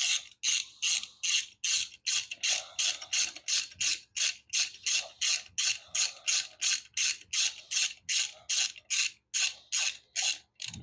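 A ratchet wrench tightens the oil drain bolt on a motorcycle during an oil change, giving a fast, even run of about two dozen sharp clicking strokes, close and alone with no talking.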